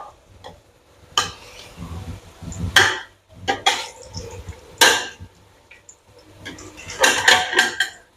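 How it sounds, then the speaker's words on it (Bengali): Spiced chicken for a homemade chicken biryani being sautéed in a pot, with irregular scraping and clattering of a spatula against metal, loud bursts separated by quieter stretches, no talking. "মশলা তো সব দেওয়াই ছিল, এখন জাস্ট কষাবো শুধু।"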